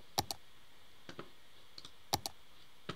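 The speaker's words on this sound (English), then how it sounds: "hear that clicking noise? It gets really annoying really fast." Small user-interface clicks from the city-building game Cities: Skylines come in quick pairs and single taps, crisp and faint against a quiet background hiss.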